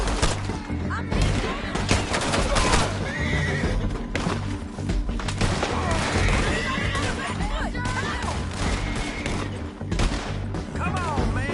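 Gunfire rattles through a chaotic Red Dead Redemption II firefight, shots popping amid neighing horses and clopping hooves, loud and dense throughout with the game's voices and noise layered over it.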